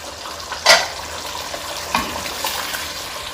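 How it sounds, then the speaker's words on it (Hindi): Eggs frying in spiced masala for egg biryani, a steady close sizzle with a sharp clatter of a spoon near the start and a few lighter scrapes later, no talking. "अब हम अंडे डाल के इसको भूनेंगे ज़रा"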